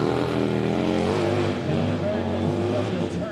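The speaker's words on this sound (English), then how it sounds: "this motor is very deep in sound and very unique" A Harley-Davidson motorcycle at a hill climb event runs with a deep, steady engine rumble that holds throughout, loud and continuous, with a broadcaster's voice talking over it.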